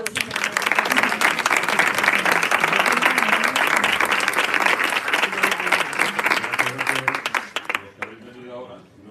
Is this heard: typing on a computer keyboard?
no